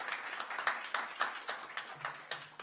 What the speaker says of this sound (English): Let's give a round of applause to Room Party.